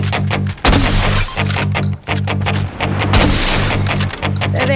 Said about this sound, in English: Ooh, a flare gun. Let me do this.